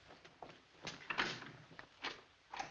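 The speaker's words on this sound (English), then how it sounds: "What's the idea of locking this door?" Someone tries a locked door in an old newspaper office, rattling and thumping it in several short bursts of jiggling and knocking.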